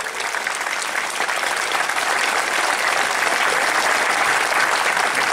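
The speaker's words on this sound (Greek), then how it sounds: "Το χειροκρότημα αξίζει πραγματικά σε αυτούς τους ανθρώπους όλους." Audience applause greets candidates presented for the Chios local election ticket, a dense, steady clapping from a sizeable indoor crowd lasting several seconds without pause.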